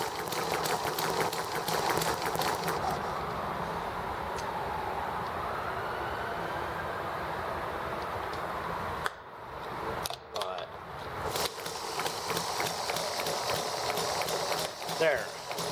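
Generators 2 and 3 on an ET1 spin together with a steady, continuous mechanical whir and rattle, briefly interrupted by short gaps and bumps near the end, with a voice talking over the running machine.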